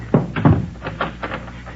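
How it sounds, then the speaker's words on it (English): Door being shut and locked in an old-time radio crime drama, a pair of sharp wooden thuds followed by softer clicks and rattles, close and alone without voices. "Shut that door and lock it."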